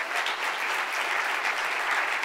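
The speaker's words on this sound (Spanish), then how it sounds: "¿Quién le da un aplauso al Señor?" A church congregation applauding the Lord during a sermon, a thick, continuous wash of clapping from many people that holds steady and fairly loud throughout.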